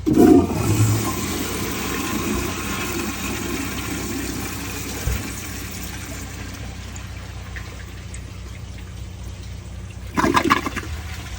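A 1978 American Standard Glenco toilet flushes a washcloth inside a grocery bag: a loud opening rush of water settling into a long, steady draining roar, then a second surge near the end as the bowl refills.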